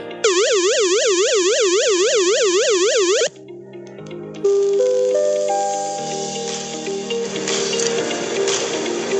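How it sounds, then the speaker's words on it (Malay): A flood danger warning siren wails in rapid rising and falling cycles for about three seconds, loud and close, then gives way to a series of electronic tones. "Kedua, bunyi siren bahaya."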